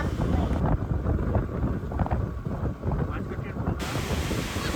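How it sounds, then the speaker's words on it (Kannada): Steady wind rushes past on a road cutting through dense forest in the Mookambika wildlife sanctuary near Kollur, a continuous broadband roar like gusts buffeting a microphone, with no clear voices. "ಒಳ್ಳೆ ಗಾಳಿ ಬೀಸ್ತದೆ"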